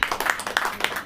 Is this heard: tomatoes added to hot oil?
no